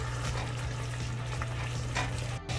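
A chicken mixture with chili sauce fries in a pan, a dense, steady sizzle close up and loud for a few seconds, briefly cutting out near the end, with no voices.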